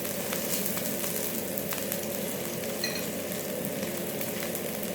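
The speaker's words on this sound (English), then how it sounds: "So if you can see brown bits, it means that the onions are beginning to caramelize." Onions fry and caramelize in a hot pan for stir-fried Singapore beef noodles, a loud, even, unbroken sizzle close by with a faint steady hum beneath and no talk.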